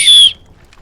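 A single short, piercing whistle blast in the Arma 3 Vietnam-era shooter, loud and close, cutting off abruptly into near silence.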